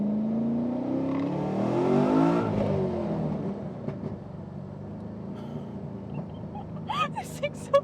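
A naturally aspirated 750hp 416 car engine pulls hard, its pitch climbing loudly for a couple of seconds before easing into a lower drone, with a voice speaking near the end.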